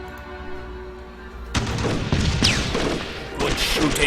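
Bursts of gunfire and booming impacts from the Eastern Front strategy game Decisive Campaigns: Barbarossa start abruptly after a quiet low hum, with dense crackling shots and a second volley near the end.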